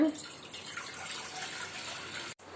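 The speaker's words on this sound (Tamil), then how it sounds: "தண்ணி விட்டுக்குங்க ரெண்டு டம்ளர் போல்" Water pouring from a tumbler into a cooking pot while making sweet potato payasam with sago, a steady broadband splash close by that runs for about two seconds, then cuts off abruptly.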